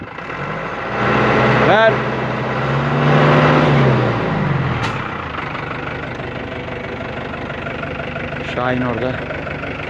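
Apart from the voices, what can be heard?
car engine being revved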